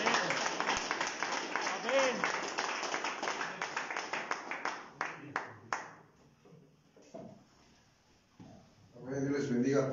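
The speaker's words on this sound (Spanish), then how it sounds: "Regálenme un aplauso a Cristo." A church congregation claps during a Spanish-language evangelical service, dense applause for about five seconds thinning into scattered claps, then a quiet stretch and a voice speaking near the end.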